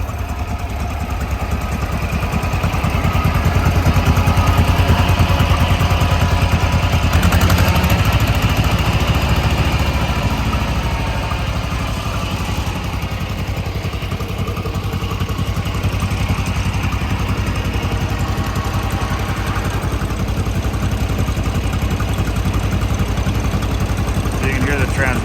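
Two vintage tractors idle side by side, a John Deere MT and a Farmall B with a small smooth four-cylinder engine, giving a steady, close, continuous low rumble with a faint chugging pulse throughout.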